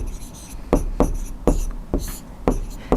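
Chalk or marker strokes on a classroom board during a Class 10 trigonometry maths lesson, a run of six sharp scratchy taps and scrapes spaced about half a second apart, close and fairly loud.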